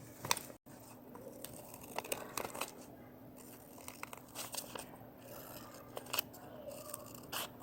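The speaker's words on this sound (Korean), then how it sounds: "선을 따라 가위로 잘라줍니다." Scissors snip through paper along a drawn line while a paper-folding craft is made, a run of quiet, close, crisp cuts in an irregular rhythm with short pauses between them and no talking.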